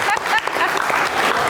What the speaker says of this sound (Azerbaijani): Xahiş edirəm bu cavabı alqışlayaq.